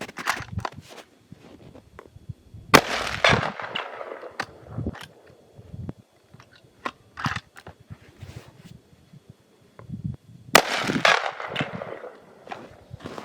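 A Howa M1500 Superlite rifle fired with a silencer: two sharp, suppressed reports several seconds apart, with faint shuffling and handling noise in between.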